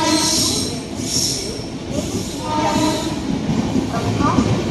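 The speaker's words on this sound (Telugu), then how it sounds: "మైసూర్ నుండి చెన్నై సెంట్రల్ వెళ్ళే శతాబ్ది ఎక్స్ప్రెస్." Mysore to Chennai Central Shatabdi Express rumbling past a platform at Arakkonam Junction, a steady loud roar of wheels and carriages with faint squeal, sustained throughout with a low voice or two in the background.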